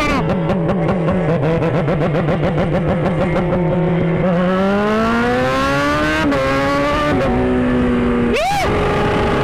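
A Kawasaki Z1000 fitted with a racing exhaust kit revs hard and close, starting with rapid sharp blips, then long rising pulls with a harsh, aggressive tone, and a final quick throttle stab.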